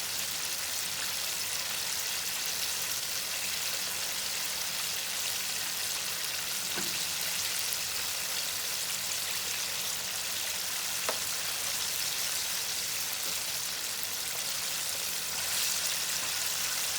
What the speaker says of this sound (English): So this is the second fry, and like I said, these are really intended just to crisp everything up.